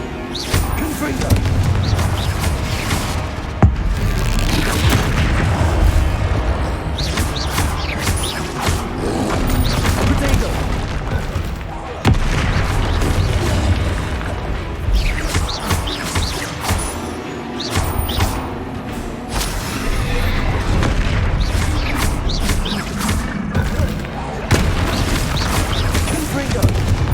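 Repeated Confringo blasting-spell explosions in the video game Hogwarts Legacy, dense booming blasts and crashes one after another over a continuous loud combat din, with shouted spell voices mixed in.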